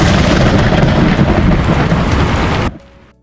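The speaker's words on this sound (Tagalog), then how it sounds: "Dumagundong ang kulog at bumuhos ang malakas na ulan." Heavy rain and thunder in a storm: a loud, dense, roaring wash with rumbling low energy that stops abruptly near the end, leaving near silence, no voices.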